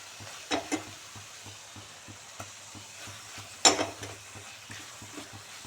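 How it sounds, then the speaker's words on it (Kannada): Mushrooms sizzle and fry in oily masala in a pan, a low steady crackle broken by a few scraping stirs of a spoon, close and moderately loud with no talking. "ಈ ಟೈಮು ನಮ್ಮದು ಫ್ರೈ ಹಾಕಿ ಮಶ್ರೂಮ್ ಇಲ್ವಾ, ಅದು ಹಾಕಿ"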